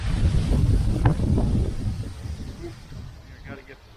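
Wind buffets the microphone beside a beehive during an outdoor hive inspection, a loud rumbling gust that eases off over a few seconds while a person talks.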